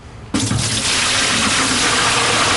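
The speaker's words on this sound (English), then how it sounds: "Then all you need to do is pour the water out." Water poured out of a cooking pot into a sink, a sudden splashing gush after a brief quiet start, then a steady loud stream of running water to the end.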